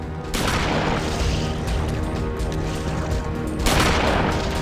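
Video game gunfire as zombies are shot, a dense, continuous barrage of booming shots lasting several seconds with a brief lull before another loud burst near the end.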